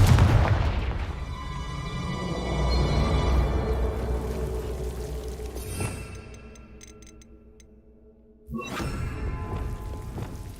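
A Confringo explosive spell bursts in Hogwarts Legacy, a loud boom with a deep low rumble that decays, followed by softer ticking effects and a second sharp blast near the end.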